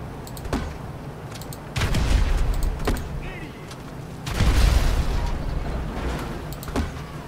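Explosions in the video game GTA 5 go off as a few loud, sharp blasts, each followed by a short rumbling tail, with two bigger bursts about three seconds apart and quieter pops between them.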